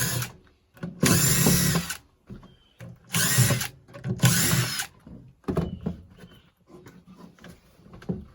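Power drill backing screws out of wooden pallet-cabin decking in three loud whirring bursts of about a second each, separated by quieter handling clatter and light knocks.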